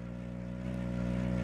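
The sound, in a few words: tuk-tuk engine in PUBG video game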